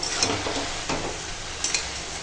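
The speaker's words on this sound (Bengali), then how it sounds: "এবার ভালো করে এরকম একদম মিশিয়ে নিয়ে নেড়ে ঘেঁটে নামিয়ে নেব" Vegetable curry with cabbage and meat being stirred and mixed in a hot pan, a soft continuous sizzle with a few faint scraping and clinking touches of the utensil.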